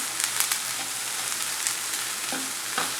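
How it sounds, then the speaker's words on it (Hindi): Chopped green bell pepper frying in butter with onion, a steady close sizzle with occasional stirring scrapes and clicks. "अब मैं इसमें चॉप किया हुआ एक कैप्सिकम डाल दूंगी। बेल पेपर मैंने ग्रीन कलर का यूज़ किया है। इसे भी बस खुशबू आने तक ये फ्राई करूंगी मैं।"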